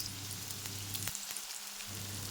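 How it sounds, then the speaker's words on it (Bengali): Chopped onions fry in hot oil in a wok, producing a soft, steady sizzle heard alone at close range, with a low hum that briefly drops out. "তেল গরম হয়ে উঠেছে, এবার কেটে রাখা পেঁয়াজগুলো দিয়ে দেব।"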